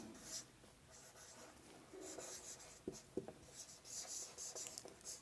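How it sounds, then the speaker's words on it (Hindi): Pen writing by hand on paper while working a Class 10 trigonometry heights-and-distances problem, a soft continuous scratchy scribble with a few sharper taps and strokes, close and quiet. "चलो लिख लेते हैं"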